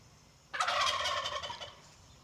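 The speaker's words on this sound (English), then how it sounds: "I wonder if this mic picks up the turkeys." A burst of turkey gobbling on a farm, several birds calling together in a loud rippling chorus that starts abruptly and fades after about a second.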